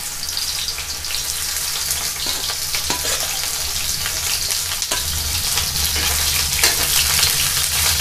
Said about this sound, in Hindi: अब ऑयल डालना है, सरसों ऑयल। अब मुझे इसे फ्राई कर लेना है पूरा।